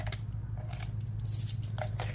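A pair of scissors handled up close, giving several quick metallic snips and clicks over a low steady hum, with no talking.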